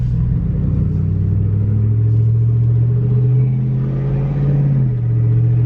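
A car with more than 533,000 miles on it idles and then pulls away gently, its engine a steady low rumble at low RPM. The automatic transmission shifts softly around 2,000 RPM with a slight dip in the engine note. No one speaks.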